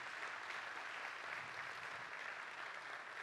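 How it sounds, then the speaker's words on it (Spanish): Audience applause at a national youth award ceremony, a steady dense wash of clapping that holds evenly throughout without voices on top. "Un fuerte aplauso para todos ustedes que son los verdaderos protagonistas de esta noche."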